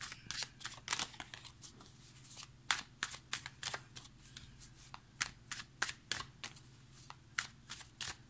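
Tarot cards shuffled by hand in a quiet room, a steady run of crisp riffling bursts and soft slaps repeating about twice a second, close and clear with no talking.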